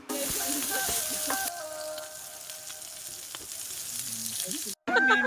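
Tofu and pork sisig sizzles and bubbles steadily in a hot pan, close and continuous, with a brief sudden dropout near the end before the sizzling resumes.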